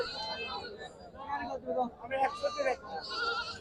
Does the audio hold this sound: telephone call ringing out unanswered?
no